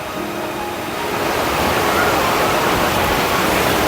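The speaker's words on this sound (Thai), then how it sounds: "ด้านหน้าน้ำตกเลยครับ" Waterfall at Khlong Lan National Park in Kamphaeng Phet, a broad, steady rush of falling water that grows louder after the first second and fills the scene, with faint voices beneath.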